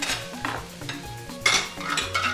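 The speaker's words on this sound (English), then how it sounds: "So I'm just going to add that and stir fry" Singapore noodles with egg are stir fried in a pan, with a utensil repeatedly scraping and clinking against the metal over a faint sizzle. The sound is close, brisk and irregular, with no voices.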